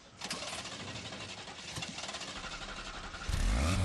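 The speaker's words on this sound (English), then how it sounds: "Start the engine, please." An engine cranks and catches at close range, with a churning starter rhythm followed by a loud, steady idle rumble as it fires up near the end.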